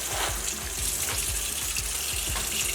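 A steady stream of cold tap water pours into a sink basin, filling it deep enough to submerge collard greens. The gush is close and constant, with no voices.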